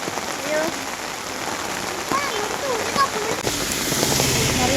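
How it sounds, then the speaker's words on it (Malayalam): Heavy rain pours down steadily around an umbrella on a village road, a dense wash of drops that grows louder toward the end, with faint voices mixed in. "നല്ല മഴ."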